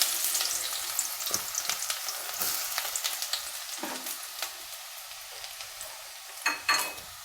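Two small medium-size onions sizzle and fry in hot oil in a pan, a steady crackling hiss with occasional stirring scrapes, close and alone with no talk.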